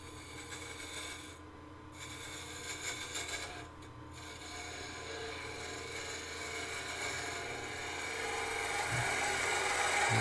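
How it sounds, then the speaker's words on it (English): A wood lathe spinning at about 1600 RPM takes shearing cuts on a slip-fit wooden box, giving a continuous close raspy scraping hiss with a motor hum underneath and brief pauses between passes. "Nice shearing cuts, starting that curve."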